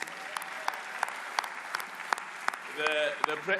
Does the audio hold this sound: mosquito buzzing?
no